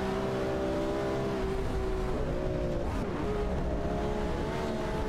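Race car engines, including an Aston Martin Vantage and a McLaren F1 GT, sound in an AI racing video game as a continuous layered drone of engine tones that rise and dip in pitch as the cars jostle, with no talking.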